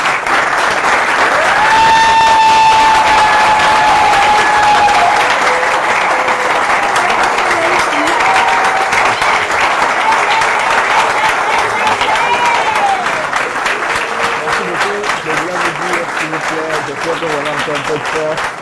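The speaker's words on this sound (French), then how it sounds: "pour applaudir la personne qui a préparé cette présentation" Sustained audience applause after a medical presentation, a dense wash of many hands clapping loudly for the whole stretch, with voices and cheers mixed in throughout.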